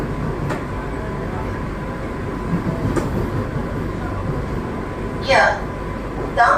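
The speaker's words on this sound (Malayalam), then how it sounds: "ഇതാ അപ്പം താമ്പരം റെയിൽവേ സ്റ്റേഷനിലോട്ടാണ് ഇത് എത്തിക്കൊണ്ട് നിൽക്കുന്നത്" An electric suburban train rumbles steadily as it rolls into Tambaram railway station, a continuous low mechanical drone with faint clicks and a couple of brief high squeals near the end.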